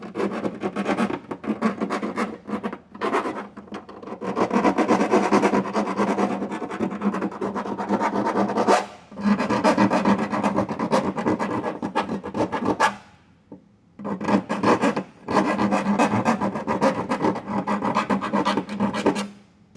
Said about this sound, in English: I'm just going to take a round file and clean up any burrs that are on the inside of these holes